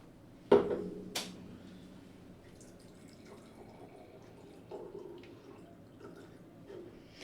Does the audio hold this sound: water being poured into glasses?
yes